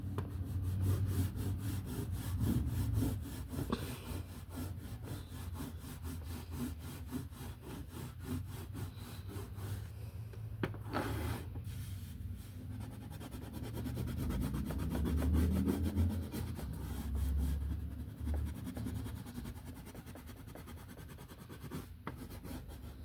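Low-quality, fun-shaped crayons color a paper Easter coloring page. The result is a continuous, close, rhythmic waxy scratching and rubbing with a rough, uneven texture, running steadily for over twenty seconds. No one speaks.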